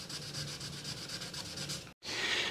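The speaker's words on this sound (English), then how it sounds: "Now this is 1500, which is pretty light to actually try to sand this down" Steady rhythmic rubbing of 1500 grit sandpaper across a car's clear coat, repeated strokes close and continuous, with a brief pause before the scratching resumes.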